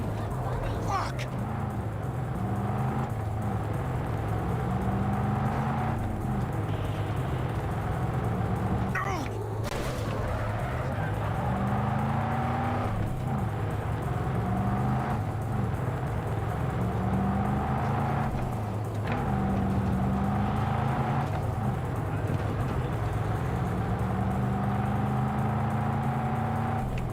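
A car drives through a car chase in the Cyberpunk video game, its engine a steady loud drone with repeated rising gear whines and sharp bangs like gunfire, while voices talk over it.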